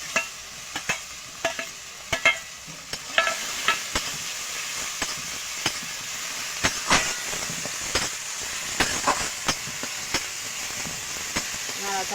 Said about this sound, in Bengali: নাড়াচাড়া করে একটু ভেজে নেব।